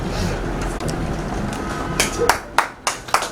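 A few sharp, separate hand claps from an audience at an award presentation in an office, arriving in a loose rhythm near the end after a stretch of background murmur and a voice.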